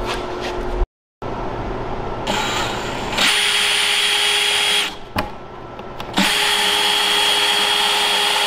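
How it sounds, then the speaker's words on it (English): A power drill whines at high speed in several bursts, stopping briefly and revving again, loud and close. "we're drilling a hole to get that piece in there"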